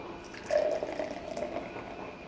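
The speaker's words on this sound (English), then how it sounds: "it's definitely pouring like a Pilsner" Brooklyn Brewery Crisp Pilsner pours from a can into a glass, a steady close gurgling stream with rising fill tones and light fizz, heard alone for about two seconds.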